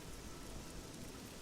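Steady rain falls in the video game Oblivion, a dense continuous hiss of drops with faint low rumbling beneath, even and unbroken throughout.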